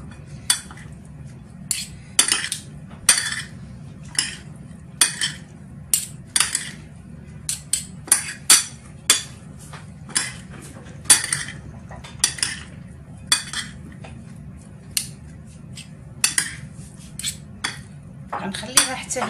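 Metal utensils clink and scrape against a bowl while mixing cut beetroot for a Moroccan salad, with irregular close taps and stirs repeating throughout and no talking.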